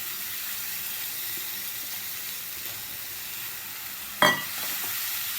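Half-cooked whole masoor lentils, earlier boiled with turmeric and asafoetida, tipped into a sizzling pan: a steady hiss of frying gives way to one sudden, louder sizzling burst that fades quickly.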